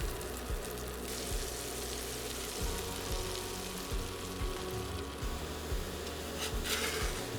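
A quesadilla fries in a hot pan, browning and crisping on the bottom with a steady, close sizzle and faint crackle that runs throughout, with no talk.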